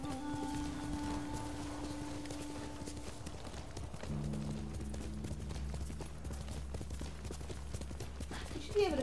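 In the video game Ghost of Tsushima, a horse's hooves clip-clop steadily and close at hand over a low game soundscape, with a brief sharper sound near the end.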